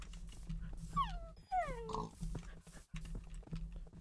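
Tamed wolves in the video game Minecraft give a few close, whining yelps and short barks in quick succession over a low game hum, with brief pauses between.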